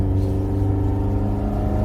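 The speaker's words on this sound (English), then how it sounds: "if you shift down, it comes alive. It loves some revs, this thing." An Alfa Romeo Giulia Super engine revs hard after a downshift, a steady, loud, close mechanical drone with rich low harmonics and induction noise held throughout without a break.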